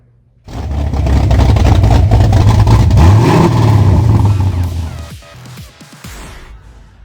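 A 2012 Ford Mustang 5.0 V8 starts up with a sudden loud roar, revs up and settles, then the engine note drops back to a lower, rumbling idle; close and dominant throughout.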